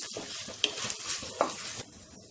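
Asafoetida and turmeric are stirred into a frying pan of sizzling tempering. A close, soft hiss runs under scraping spoon strokes and a couple of sharp clinks before it drops off.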